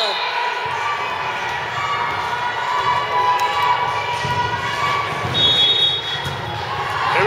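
A crowd keeps up continuous cheering and shouting in a gym during a girls' 14U volleyball game, a dense, loud wash of voices with a few brief louder swells.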